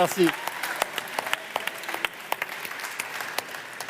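An audience applauds a guest being introduced on stage at a tech talk event, a sparse, fairly quiet patter of individual claps with sharper close hand claps scattered through it, after a brief voice at the start.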